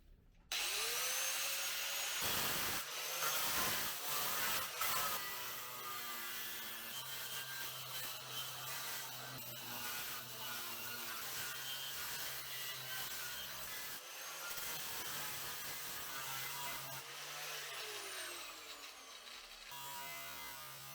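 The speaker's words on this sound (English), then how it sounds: "I'm gonna use this angle grinder, which has this like blade on it, so I can kind of sculpture it" An angle grinder fitted with a carving blade works a wooden mold for a doubletop archtop guitar, giving a loud, steady grinding whine that runs almost the whole time, with brief dips as the blade lifts off the wood.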